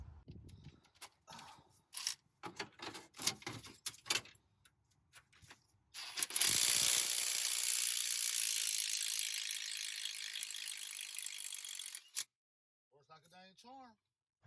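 A socket ratchet clicks in short irregular bursts while working on a 2007 Suburban engine during a DOD/AFM delete, followed by a long loud hiss-like stretch and a few faint clicks after it.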